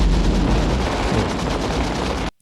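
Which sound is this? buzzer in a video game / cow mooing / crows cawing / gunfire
gunfire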